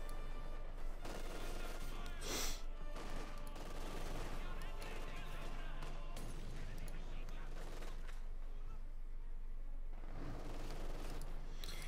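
Rapid MG42 machine gun bursts crackle through battle noise in the World War II strategy game Company of Heroes 2, with dense overlapping gunfire and distant blasts under a steady, busy mix.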